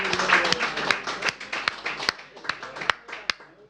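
A few people clap in quick, uneven bursts, with sharp separate claps getting sparser toward the end, close by during a casual football keepy-uppy session among friends, with voices faintly underneath.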